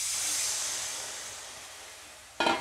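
Water poured into a hot pan for a Bengali puti fish curry sends up a loud, steady steam hiss that slowly fades, then a short sharp burst of hissing near the end.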